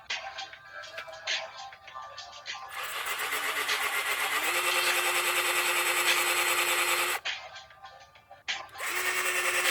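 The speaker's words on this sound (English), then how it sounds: "I'm going to drill some holes in the log. I'm using the 5/16 drill bit" A power drill with a 5/16 bit bores holes into a log outdoors, whining in long sustained runs with a pitch shift mid-drill, brief pauses between bursts, loud and close.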